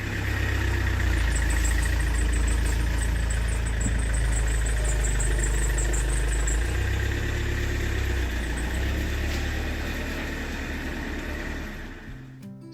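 A camper van engine idles steadily in winter on the Danish island of Mors, a loud, continuous low rumble close by that holds throughout and fades slightly in the final second, with no voices.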